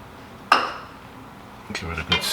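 Utensil clinks and scrapes against a pot as red peppers and yellow and green zucchini are stirred into a Thai Panang curry: one sharp knock early, then a few quieter clatters near the end, with no talk.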